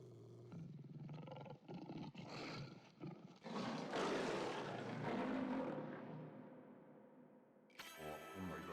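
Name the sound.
tiger roar from the video game Okami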